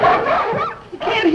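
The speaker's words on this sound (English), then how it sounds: "Well, of course they're barking right now." Dogs bark and yip close by in a residential neighbourhood, short excited bursts mixed with whimpering, overlapping steadily with no pause.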